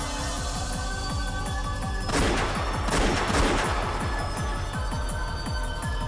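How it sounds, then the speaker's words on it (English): Rapid bursts of gunfire from a visual novel game, Umineko, a steady stream of shots with a louder volley in the middle, no talking. "They heard gunfire from down the hallway."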